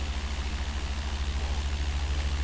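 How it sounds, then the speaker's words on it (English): Airplane engine sputtering in a flight simulator, a loud, steady low drone with a rapid pulsing throb, heard alone without talk. "The engine tried to quit and I laughed about it."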